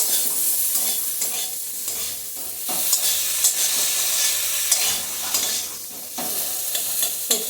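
Jujube (boroi) fruit frying in a pan for a sour relish, a loud steady sizzle broken by scraping stirs and spatula knocks, with no voices.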